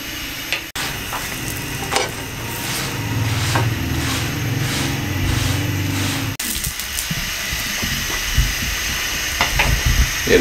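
Dhaba-style aloo paratha cooks on a griddle over medium heat, giving a soft, steady sizzle with occasional light clatters and knocks of utensils nearby.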